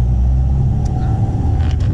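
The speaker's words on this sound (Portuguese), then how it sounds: "Saindo em segunda, viu como o carro é forte?" A car engine pulls away in second gear, a steady loud low rumble filling the whole stretch with little change, brief faint clicks near the end.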